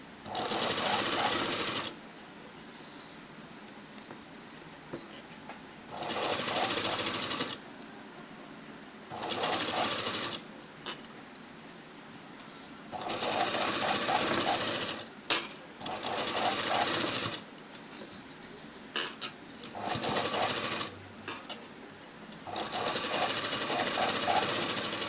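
A sewing machine stitches blouse lining in repeated loud bursts of a few seconds each, the fast needle clatter starting and stopping with short quiet gaps between runs, close to the microphone.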